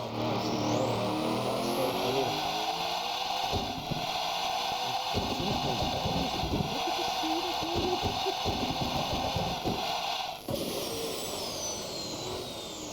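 Tim Burton Batmobile in the Assetto Corsa racing game, its engine droning loud and steady under throttle with harmonic tones, someone talking over it at times.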